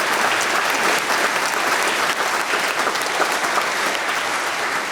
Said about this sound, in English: Let us applaud the Laramie Project